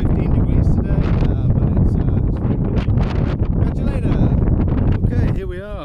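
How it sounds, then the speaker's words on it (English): Strong wind buffets the microphone with a constant, loud rumbling roar, and a voice talks underneath it, on a cool day while hiking from St Bees to Ennerdale Bridge, England. "Hope you can hear this. It's a tad windy."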